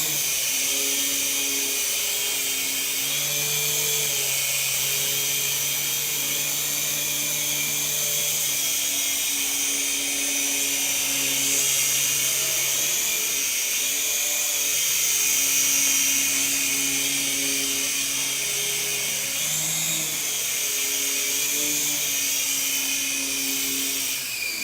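A beginner RC helicopter flies nearby with a constant high-pitched motor whine and rotor buzz that rises and falls slightly in pitch with throttle changes over about twenty-five seconds.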